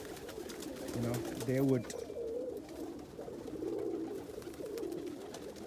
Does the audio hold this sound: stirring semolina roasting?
no